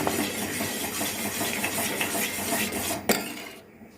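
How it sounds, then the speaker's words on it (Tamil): A semolina sweet mixture with rose essence is stirred around a vessel in a steady rhythm of scraping strokes under a hissing wash, then a single sharp clack and a quieter tail. "இப்போ இது வந்து நல்லா கலக்கி விடுங்க"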